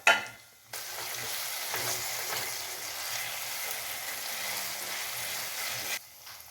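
Potatoes for aloo tama frying with ginger-garlic paste and spices in a pan, a steady close sizzle broken by scraping stir strokes, starting after a short pause and cutting off near the end, with no voices.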